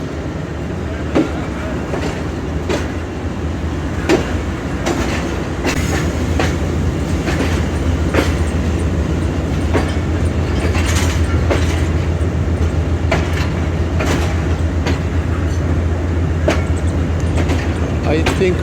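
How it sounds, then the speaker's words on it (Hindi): The Millat Express passenger train rolls past on a Pakistani line, its steady rumble loud and near, with repeated rhythmic clickety-clack wheel beats over rail joints throughout and a voice talking briefly over it. "that must be Millat express"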